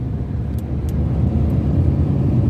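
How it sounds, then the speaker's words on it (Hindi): A car passes on a road in Indore, a steady close engine-and-tire rumble filling the whole stretch with no talk. "अब ये गाड़ी जा रही है"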